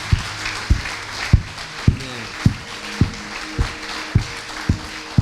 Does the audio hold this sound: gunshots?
no